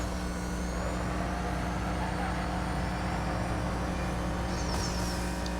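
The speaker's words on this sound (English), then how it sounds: "I'm flying at 275 miles an hour in a almost 100-year-old car" A 1930s car tops out around 275 mph on a speed-trap run in the racing game NFS No Limits, its engine a loud, steady drone with a heavy low hum that holds without a break.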